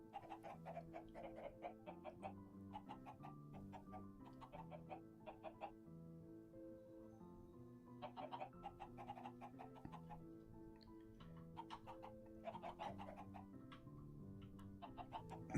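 Uranium chickens from the Minecraft Stoneblock modpack cluck in short bursts over steady background game music, repeating at intervals throughout with no talking.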